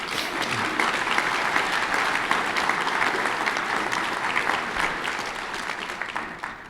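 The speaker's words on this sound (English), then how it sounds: "Let's give them all another round of applause" Sustained audience applause fills a hall at an American Quarter Horse Association membership general meeting, dense steady clapping from a large crowd lasting throughout without letup.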